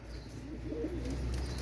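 Pakistani high-flying pigeons, young females, coo softly in a brief low murmur, close by over a steady background hum, with no talking.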